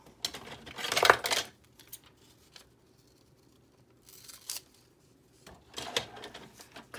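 Paper being cut for a farmers market themed junk journal, heard as a few short scissor snips and rustling paper bursts at close range, separated by quiet pauses.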